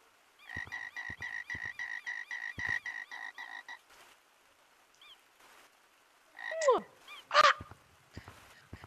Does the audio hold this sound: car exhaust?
no